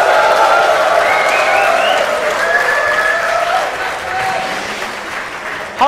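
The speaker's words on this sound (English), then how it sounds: "All the girls are cheering for Ret, and the guys are cheering for Harstem" An esports crowd cheers and roars for the Protoss player Harstem at a StarCraft match, sustained loud applause and shouting with a commentator talking over it.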